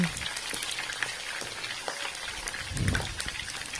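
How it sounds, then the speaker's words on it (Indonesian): Boiled chicken frying briefly in a pan, a steady bright sizzle like light rain with scattered pops and a stirring scrape near the end. "Siapkan penggorengan lalu digoreng sebentar ayamnya."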